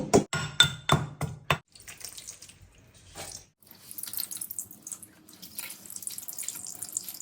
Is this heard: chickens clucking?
no